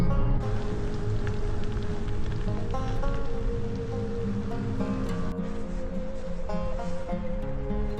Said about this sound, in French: la pluie est plus forte dehors